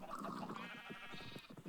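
Sheep bleating from a penned flock, a few overlapping wavering calls at moderate distance, with no voices.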